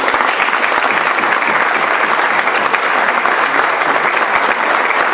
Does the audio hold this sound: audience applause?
yes